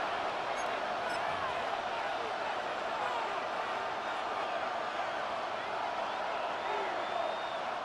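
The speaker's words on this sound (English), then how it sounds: "This crowd turning up the decibel level." Dense, steady stadium crowd roar from the American football video game Madden NFL 26, filling the whole stretch at an even level with no clear breaks.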